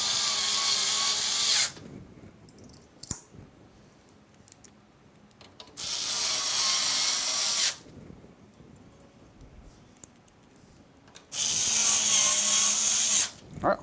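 A power drill drives screws during a gaming PC build, whirring in three long, loud bursts of several seconds each, separated by quieter pauses with faint handling noises.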